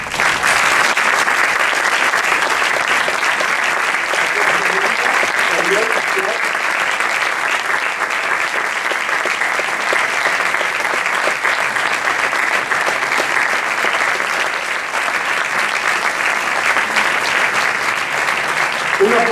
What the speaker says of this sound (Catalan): Demano a l'equip del jurat que s'aixequi i un fort aplaudiment per a ells